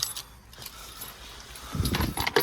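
A faint metallic jingle of car keys for a 2011 Mitsubishi Outlander XL diesel, rattling briefly near the end after a quiet stretch.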